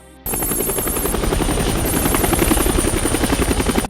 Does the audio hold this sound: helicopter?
yes